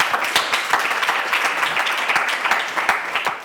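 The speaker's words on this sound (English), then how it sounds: "Shall we give them a round of applause?" An audience at a live recorded panel discussion claps and applauds steadily, a dense wash of hand claps filling the room at a consistent, lively level.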